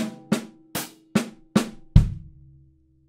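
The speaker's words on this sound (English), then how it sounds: "you're then going to do what's called a control stroke, accented left into a soft left straight away." Snare drum played as a control stroke, an accented left hand straight into a soft left on beat two, about six sharp close hits with short decays ending on a heavier low thump, no talking.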